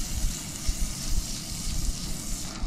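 Bread toasts in butter in a pan with a soft, continuous sizzle and faint crackles. The frying stays fairly close and steady, and there is no speech.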